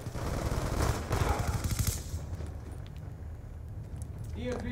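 Rapid bursts from a Type 27 rifle in Call of Duty Black Ops 2 crackle for about two seconds and then fade, while a player talks over them.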